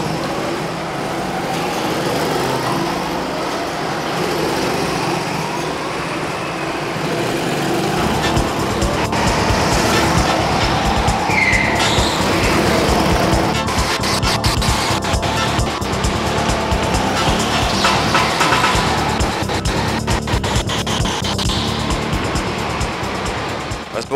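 Go-karts race around an indoor track, a constant buzzing blend of small high-revving engines that swells and fades as karts pass, loud and continuous throughout.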